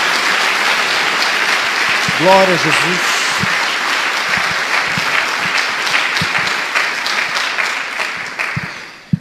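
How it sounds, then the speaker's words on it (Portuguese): A congregation claps in a sustained round of applause at a church service, steady and dense throughout, while a voice briefly calls out in praise near the start and the clapping tapers off at the end. "Dê uma salva de palmas ao Senhor."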